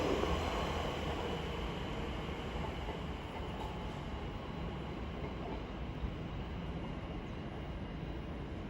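An Elizabeth line class 345 train arrives at Stratford, a steady, moderately distant rumble of wheels and traction noise rolling on without a break, with no voices.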